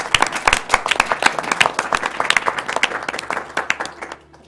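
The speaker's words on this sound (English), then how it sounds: "A round of applause for yourselves." Live audience at a speedrunning charity marathon clapping after a game run, sharp scattered claps forming an uneven burst of applause that thins out and fades near the end.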